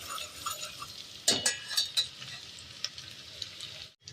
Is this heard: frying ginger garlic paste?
yes